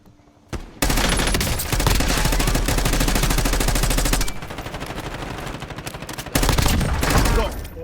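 Sustained rapid gunfire from the video game Warzone, loud and dense, with bursts of automatic shots running almost continuously.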